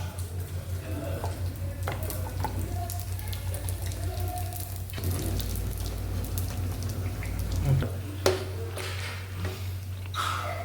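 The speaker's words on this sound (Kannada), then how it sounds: "ಈಗ ಅಮ್ಮ ಫ್ರೈ ಮಾಡಲಿಕ್ಕೆ ಸ್ಟಾರ್ಟ್ ಮಾಡಿದ್ದಾರೆ" Mangalore buns fry in hot oil in a home kitchen with a steady patter of popping and bubbling over a low constant hum, and a few sharper crackles stand out near the end.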